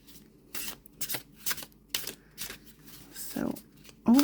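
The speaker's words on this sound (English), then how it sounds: "let's see how these shuffle" Tarot cards are shuffled in quick, crisp bursts of riffling, repeated several times in a regular rhythm, with a short bit of speech near the end.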